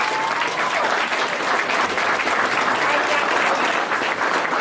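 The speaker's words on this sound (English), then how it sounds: "Please, can you give him another round of applause?" Steady, loud audience applause for Dr. West at a conversation event in Cleveland, dense clapping that fills the room without pause and holds at full strength throughout.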